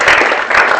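Audience applause at a low-tech innovation prize giving ceremony, a short burst of dense, steady clapping from a crowd lasting under a second.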